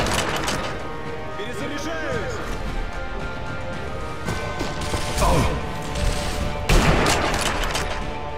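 Gunfire bursts from the Sniper Elite V2 video game mix with clanking mechanical sounds, while a player shouts and curses excitedly over the action, with louder shots rising near the middle and end.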